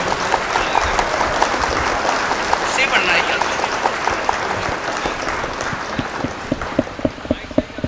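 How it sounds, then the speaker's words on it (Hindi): A crowd at a Hindi comic poetry gathering in Badaun applauds to welcome poet Vinod Raj Yogi, a dense, steady wash of clapping that thins toward the end into a few louder, separate claps. "एक बार जोरदार तालियों स्वागत कीजिएगा विनोद राज योगी"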